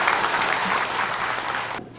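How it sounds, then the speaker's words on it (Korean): Audience applause at the founding ceremony of the Korean delivery riders' association, a dense continuous wash of clapping that cuts off abruptly near the end. "박수 부탁드리겠습니다"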